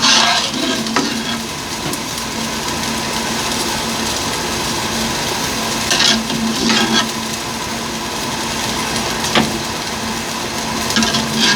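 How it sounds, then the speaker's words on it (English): Tortellini pasta dropped into a pot of boiling sausage soup, giving a steady bubbling, stirring texture throughout with a few brief clinks and splashes. "I am going to add my pasta to the soup"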